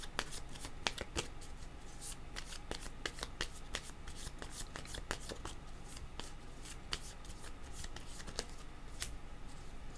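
Tarot cards shuffled by hand in a quiet room, a continuous close riffle of crisp flicks and soft slaps with no voices.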